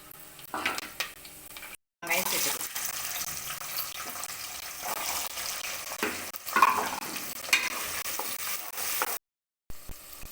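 Cinnamon, cloves and curry leaves fry in hot oil for a Tamil mutton gravy, a close sizzle with stirring scrapes, interrupted by two brief silent gaps.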